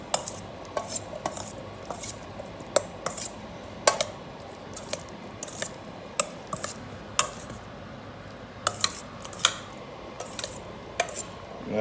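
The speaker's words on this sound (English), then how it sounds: "Sort of gently with a spoon, you're just going to want to separate those slices. Just give them a nice mix." A spoon gently mixes dressed avocado slices in a bowl, giving light, scattered clinks and taps over quiet kitchen background noise, with no one speaking.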